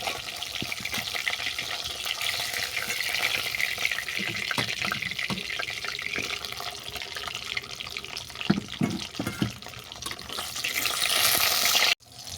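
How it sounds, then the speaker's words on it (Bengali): Broad beans (sim) frying in oil left from frying bhetki fish make a steady, dense hiss that runs unbroken for several seconds, with a few faint knocks and no talk. "এই তেলেই সিমটাকেও ভেজে নেব"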